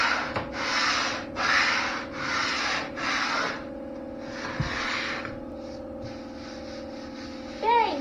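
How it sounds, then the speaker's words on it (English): Hand sanding on a wooden cabinet for a skoolie conversion: several loud, rhythmic back-and-forth rasping strokes close by, then lighter shorter strokes and a brief squeak near the end. "So I'm just gonna sand that a little bit more."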